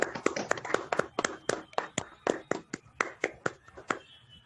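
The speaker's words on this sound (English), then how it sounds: "Can we have a round of applause for the Dharan Prakash" A small group at a meeting gives a round of applause, a thin, sparse patter of about a dozen distinct claps in an irregular rhythm, faint and slightly distant, with no one talking.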